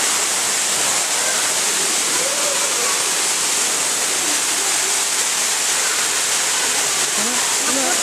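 An artificial waterfall at a zoo pours with a loud, constant hiss-like roar that does not change from start to finish, with voices faintly mixed under the water noise.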